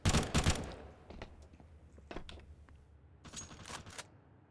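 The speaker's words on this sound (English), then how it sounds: "These pistols are doing a hell of a lot of damage" Pistol fire in a competitive shooter video game match: a burst of sharp, rapid shots at the start, scattered single cracks through the middle, then another quick cluster near the end, all fairly close.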